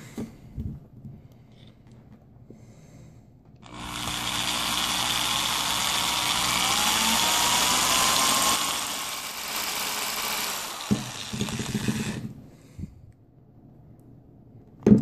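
A power drill twisting metal wire whirs steadily for several seconds, a loud broad motor hiss that starts abruptly and stops, with quiet handling noises before and after.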